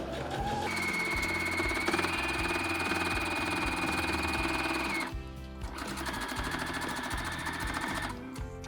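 A sewing machine stitches a small phone bag with a flap and hand strap, whirring steadily up close for about five seconds, pausing briefly, then running again in a second sustained burst.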